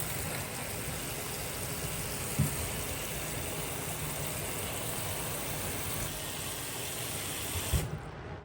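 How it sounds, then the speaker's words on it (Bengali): Leafy greens being washed under a steady stream of tap water running into a sink, a continuous close splashing rush with a couple of soft knocks, ending abruptly. "তো এখন হচ্ছে আমি শাকগুলো ওয়াশ করব।"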